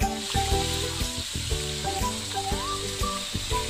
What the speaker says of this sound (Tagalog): igisa ang bawang at sibuyas